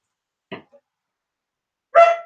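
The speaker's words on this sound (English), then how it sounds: "the dog's barking" A pet dog named Spud barks twice in an otherwise quiet room: a short bark, a tiny yip, then a louder, fuller bark after a pause, with no talking.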